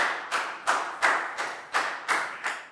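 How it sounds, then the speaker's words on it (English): Evenly spaced, sharp claps in a classroom, about eight in under three seconds, sounding like a small group clapping in unison at close range with no speech over them. "High five and a big round of applause for legal"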